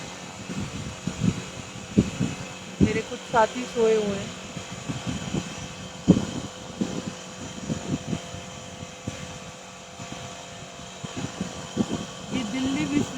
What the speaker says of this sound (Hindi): यहाँ बहुत तेज़ पंखा चल रहा है